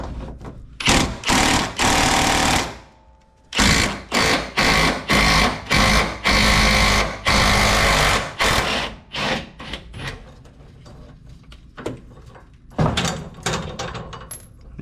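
A power tool on a Toyota Tundra zips off the 14mm fasteners on the fuel tank straps, giving loud repeated short rattling bursts with brief pauses between, then scattered clanks.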